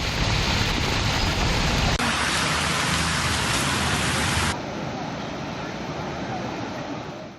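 Heavy rain pours down during flooding in Telangana, a loud, dense, continuous hiss of water across several abruptly cut shots.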